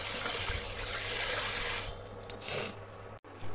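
Rice is rinsed in water in a basin for cooking, with a steady wash of running, splashing water that tapers off into a few small sloshes and drips, close and without speech.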